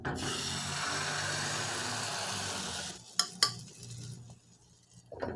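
A cha-om omelette cooks in a lightly oiled pan over low heat, giving a continuous close sizzle for about three seconds that cuts off abruptly, followed by a couple of sharp clacks and quiet.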